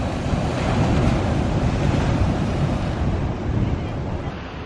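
Waves crash continuously on rocks at a beach, a loud, dense wash of surf with heavy wind buffeting the microphone, heard up close with no voices.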